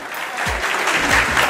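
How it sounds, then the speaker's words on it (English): An audience breaks into a round of applause at a Brooklyn awards-style event, loud, dense clapping close by with a few low thumps mixed in. "I want y'all to give these guys a round of applause."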